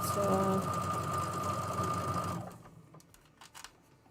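A sewing machine stitches a quilt in a loud, steady, buzzing run that stops abruptly, leaving a few faint clicks and knocks.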